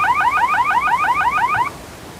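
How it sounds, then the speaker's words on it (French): Electronic end-of-run buzzer at a freestyle kayaking competition during Canadian national team trials: a loud, rapidly warbling two-tone signal repeating about a dozen quick sweeps for nearly two seconds, then cutting off into river noise. "On entend le buzzer pendant qu'il avait la tête en dessous de l'eau."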